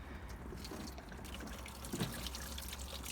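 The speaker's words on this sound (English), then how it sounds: "Then finally, rinse out the drain with a hose." A garden hose rinses out the soft top drain of a Toyota MR2, giving a steady, faint trickle and splash of running water with a small gurgle near the end.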